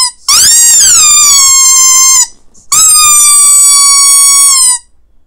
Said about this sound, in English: So this is the squeaker.